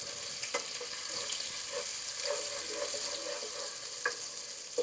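Finely chopped onions sizzle in a hot pan for a rice-and-lentil dish, a steady close frying hiss with occasional small pops and clicks, no voices.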